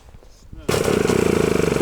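A go-kart's small engine suddenly fires up and runs loud and close, a rapid buzzing rattle holding steady after a quiet stretch with faint sounds.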